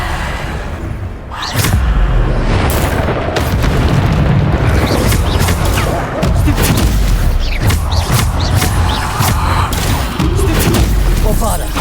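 Continuous loud booms and blasts of Bombarda spell explosions in Hogwarts Legacy combat, a dense, unbroken wall of impacts with game sounds and a voice mixed in.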